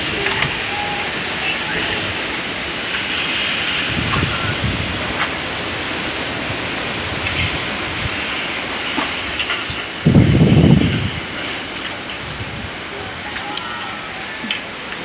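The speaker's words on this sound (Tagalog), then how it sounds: "Tapos ayan ang lakas ng hangin." Strong typhoon wind and heavy rain under a Signal No. 3 warning in Masbate, Philippines, roar as a steady, dense wash close by, with a brief louder gust or splash near the end.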